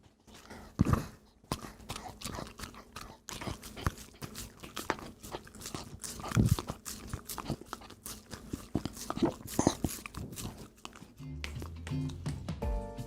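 A dog licking and chomping peanut butter off a spatula that has a small clip-on microphone attached, with wet smacking, crunchy bites and taps in an uneven rhythm, very close and alone.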